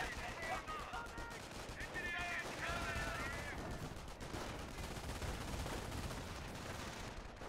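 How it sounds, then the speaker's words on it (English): Machine gun fire from a Company of Heroes match keeps USA infantry pinned down, a steady dense rattle of bursts under a busy wash of battlefield noise, with brief voice-like tones early on. "MG suppressing the USA infantry"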